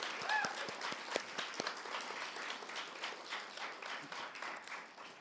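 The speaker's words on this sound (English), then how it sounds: "Can we please give them a round of applause?" Audience applause at the 2025 Top 30 award event, a soft, distant patter of many hands clapping in a hall, fairly quiet and steady with a few sharper claps standing out.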